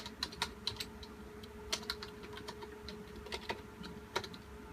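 Keystrokes on a computer keyboard while an IP address is entered into WinSCP on a Windows computer: quick, light clicks in short irregular bursts, close and fairly quiet over a steady electrical hum, with no voices.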